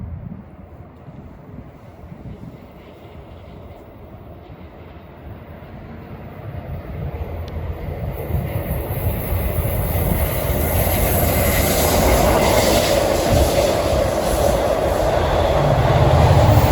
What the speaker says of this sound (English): our last train today on this entertaining day at 5:57 is 8769 from Patchogue to Jamaica